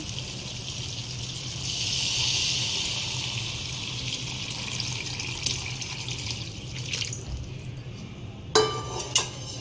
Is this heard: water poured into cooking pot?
yes